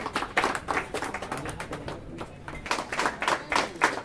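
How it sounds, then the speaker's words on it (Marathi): Clapping crowd at a felicitation ceremony in Dattawadi, Rajapur, a moderately distant burst of applause with uneven hand claps that swell and ease over several seconds, no voices over it. "टाळ्यांचा आवाज झाला पाहिजे जोरदार"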